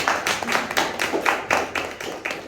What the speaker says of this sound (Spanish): Vamos a dar un aplauso al pastor que acaba de llegar